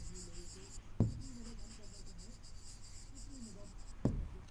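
Close, steady scratching of writing during a maths lesson on quadrilaterals and polygons, with two sharp taps as the writing tool touches down.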